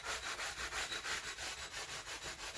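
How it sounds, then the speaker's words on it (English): Rapid, even back-and-forth scrubbing of a sanding sponge against the metal fret ends and wooden neck of a Monoprice Indio Telecaster guitar, about five strokes a second, close and steady with no speech. "I use a sanding sponge on these"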